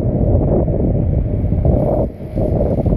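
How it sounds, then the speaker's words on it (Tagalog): Strong typhoon wind buffets the microphone with a heavy, continuous roar near an expressway on-ramp under construction, briefly easing for a moment before gusting back, with no voices. "Ang hangin."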